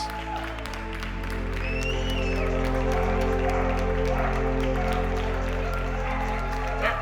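Collective applause during the pandemic in support of doctors, nurses and paramedics: a sustained wash of many hands clapping together, steady and dense throughout, over a constant low drone.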